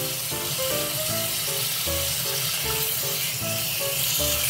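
Yakisoba frying in a freshly reseasoned iron frying pan, a steady close sizzle with a faint rhythmic thumping beneath it and no voices.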